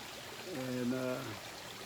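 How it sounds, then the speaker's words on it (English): A backyard waterfall gives a steady, even rush of flowing water throughout, with a voice briefly sounding over it in the middle. "You can see behind me I put in a waterfall here"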